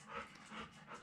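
A dog named Jake pants close by in a garage or workshop, with quick, rhythmic breaths coming in three soft, even bursts, quiet and alone, with no talk over it.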